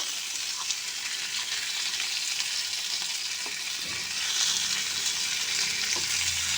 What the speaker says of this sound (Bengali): আমি মাছের পিসগুলো ভেজে নেব